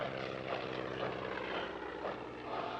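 A vintage propeller aircraft drones at the La Ferté-Alais air show, a steady, fairly faint engine and airscrew hum heard from a distance without a break.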